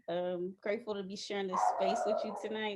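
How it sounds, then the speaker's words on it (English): Dogs bark and yip indoors in the background, with a burst of barking in the middle, while a person talks over them. "Sorry, excuse the dogs."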